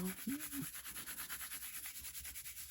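Gold leaf Rub 'n Buff is rubbed over cardstock with soft, rhythmic back-and-forth scuffing strokes, close and quiet, after a brief faint vocal sound at the start.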